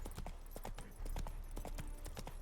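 Horse hooves from The Witcher 3: Wild Hunt clip-clop in a quick, steady rhythm, crisp and close, with a low rumble of game ambience underneath.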